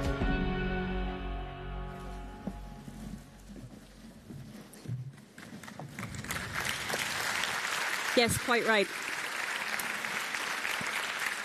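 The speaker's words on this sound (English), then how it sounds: "It deserves a round of applause" Audience applause at the opening session of a European regional policy conference. A voice speaks first, then sustained clapping from a large crowd builds and carries on to the end.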